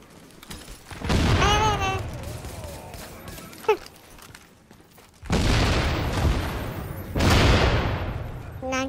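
Bursts of gunfire and explosions in the online shooter The Division, two long loud volleys separated by a quieter gap, with a sharp crack between them and players' voices talking over the action.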